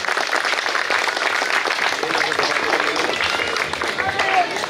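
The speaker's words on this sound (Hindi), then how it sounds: "उनका स्वागत पे हम चाहते हैं कि आप तालियों से स्वागत करें।" A crowd at a community association event claps steadily in welcome for a visiting party official, a dense, continuous round of applause at even loudness with murmuring voices underneath.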